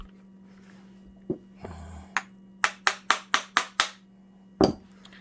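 A light hammer taps on a Milwaukee 1/2" Magnum Hole Shooter drill gearbox: a few scattered knocks, then a quick run of six sharp metallic taps and one final strike, close over a faint steady hum.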